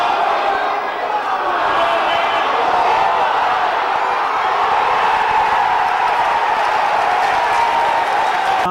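Crowd at a Leigh East versus Bradford rugby league cup tie at Hilton Park roaring and cheering steadily after a well-worked move, a loud sustained wash of voices with no breaks.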